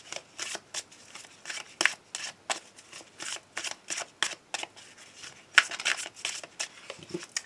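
Tarot cards are shuffled and cut in a quick, steady run of crisp riffling bursts, close and clear, with no talking.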